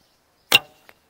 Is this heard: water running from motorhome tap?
no